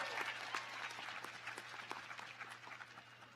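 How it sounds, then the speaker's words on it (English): A university spring commencement crowd applauds together, a sustained, moderately distant clatter of many hands with individual claps popping through and a low hum underneath, with no voices. "Graduates, let's give these champions who have always been in your corner a big round of applause."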